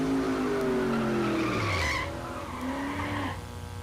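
A drag race car powered by a 430 Buick engine with a 4L80 overdrive transmission launches at Mid America Dragway in Geuda Springs, Kansas, its engine revving hard with rising pitch sweeps and tire noise, loud and close.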